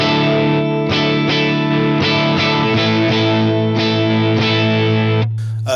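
An overdriven electric guitar through a Line 6 Helix plays sustained, gritty chords and notes in a steady phrase, loud and close, with a brief noisy scrape at the end.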